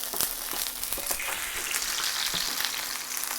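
Korean seafood pancake (haemul pajeon) sizzles steadily in an oiled pan on low heat right after flipping, a continuous close frying hiss with small crackles and pops throughout, no voices.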